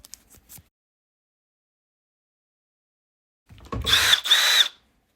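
After a few faint taps and a long silence, a power drill with a sanding disc spins up in two short, loud bursts close by, grinding wet against a car headlight lens.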